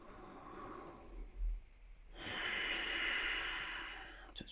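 Slow, steady breaths during a yoga session: a soft airy exhale, a pause, then a longer, louder hissing breath, close to the microphone, with no talking.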